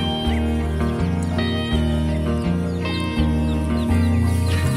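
Backyard village chickens cluck and call in the morning, with several close, overlapping bird voices sounding in a busy, continuous chorus.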